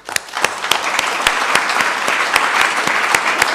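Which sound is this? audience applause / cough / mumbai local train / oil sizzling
audience applause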